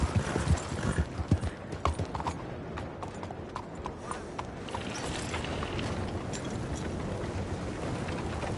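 Horse hooves clip-clop steadily on the ground in Red Dead Redemption 2 on PS4, close and clear, with a denser run of strikes early on that settles into a softer continuous trot.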